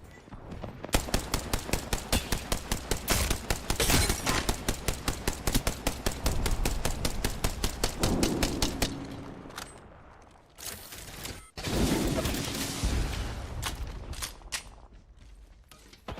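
Gunfire in a shooter video game: long bursts of rapid, evenly spaced automatic shots, loud and close, broken by short pauses, a single sharp crack and some mechanical clatter, with no talk.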